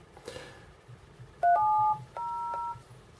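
Several DTMF dialing tones, each a paired-pitch beep, play from an AEC BT-207 Bluetooth speaker. A few beeps of varying length follow a brief soft noise, clear and fairly close against a quiet background.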